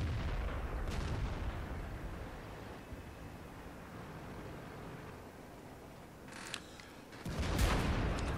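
Heavy shell impacts clang and ricochet off the armor of a KV-5 heavy tank in a game battle, a loud hit at the start and more sharp metallic strikes near the end over low rumbling background.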